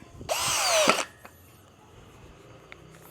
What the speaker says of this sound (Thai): ผมจะทดลองยิงไม้ ให้ท่านผู้ชมดูนะครับ